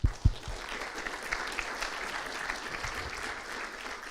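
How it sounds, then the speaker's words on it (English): Conference audience claps at the end of a technical talk, a couple of loud close claps opening into a soft, steady patter of applause from the room that slowly dies down. "those claps are also the claps for the conclusion of this talk"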